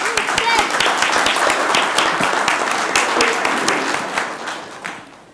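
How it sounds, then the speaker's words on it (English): City council meeting audience gives a round of applause, crisp individual claps close by, sustained and then tapering off at the end, with some voices mixed in. "Let's Thank give them you. another round of applause"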